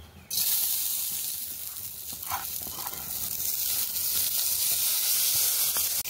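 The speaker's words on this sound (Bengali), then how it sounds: "এই যে ধুয়ে রাখা আতপ চালটা এবার কড়াইয়ের মধ্যে দেব।" Washed atap rice dropped into hot white oil in a wok, setting off a sudden loud sizzle that holds steady and hissing for several seconds.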